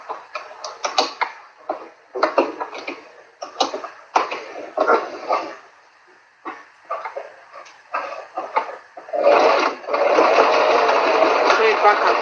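A sewing machine stitches along the edge of a foam piece in short, stop-start bursts, then runs in one longer steady stretch near the end, close and fairly loud.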